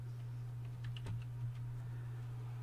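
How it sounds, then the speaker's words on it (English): A few faint keystrokes on a computer keyboard while typing a short Windows command, soft clicks bunched together under a steady low electrical hum, with no voices. "I'm going to type in CMD."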